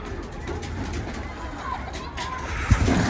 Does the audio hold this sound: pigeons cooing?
yes